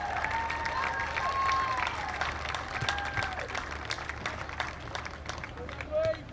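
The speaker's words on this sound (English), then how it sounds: "let's give these guys a massive round of applause" Applause and crowd noise from spectators at a women's football grand final, a steady outdoor roar of clapping with scattered shouts and voices mixed throughout.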